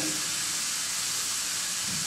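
Ground beef sizzles steadily in a hot pan, a dense, even hiss of frying with no pauses and no voices.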